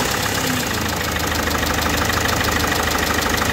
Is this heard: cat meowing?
no